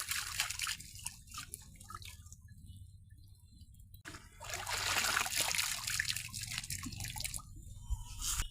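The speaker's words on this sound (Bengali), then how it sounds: "শাকের গুঁড়ায় কাদা ভরে গেছে, ধুয়ে নিয়ে যাই।" Muddy radish greens being rinsed in water, with drips, trickles and splashes; a quieter dripping stretch gives way to a louder, busier sloshing wash in the second half, close by and without talk.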